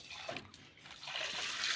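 Water running from a tap at a Khodiyar Mata temple in Gujarat gives a soft, faint trickling splash, steady and slightly rising over the short stretch.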